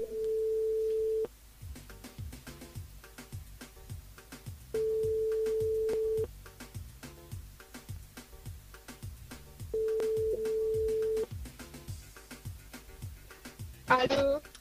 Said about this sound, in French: on la rappelle sur le standard, Alia, que l'on avait appelé hier.